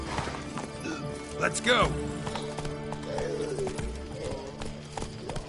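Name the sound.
horse Roach galloping in a video game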